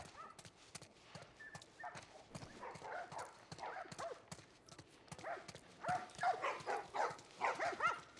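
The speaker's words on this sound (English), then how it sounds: "Doggies." Dogs barking in The Last of Us Part I, repeated yaps and barks at moderate distance amid footsteps and background ambience, growing busier and louder toward the end.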